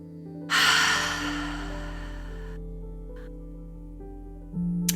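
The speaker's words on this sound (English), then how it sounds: "One more nice deep breath." A person takes one deep breath during a guided meditation: a long, soft airy inhale that fades away, then a quieter breath at the end, over a steady low musical drone.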